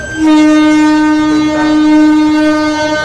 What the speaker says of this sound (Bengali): এক নম্বরে ট্রেন ঢুকছে